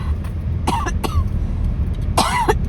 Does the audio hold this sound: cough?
yes